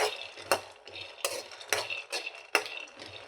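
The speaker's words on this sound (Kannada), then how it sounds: "ಲೋ ಫ್ಲೇಮದಲ್ಲಿ ಇಟ್ಕೊಂಡು ಸೊಕಾಸು ಹುರ್ಕೋಬೇಕು" Peanuts are dry-roasted slowly in a pan over a low flame, stirred in a series of distinct scraping, rattling strokes, roughly one every half second, with soft sizzle between them.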